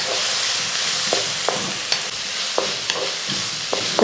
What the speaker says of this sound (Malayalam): തക്കാളിയും ഒന്ന് ഇളക്കി എല്ലാം കൂടെ നന്നായിട്ട് ഇളക്കി